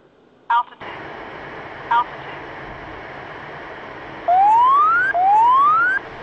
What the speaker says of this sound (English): That sound is the altitude alert that I'd set up.